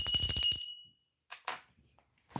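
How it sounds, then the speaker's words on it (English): A small bell struck once, ringing out brightly and loudly for about half a second before fading, followed by a few faint scattered taps in an otherwise quiet room. "Let me ring the bell."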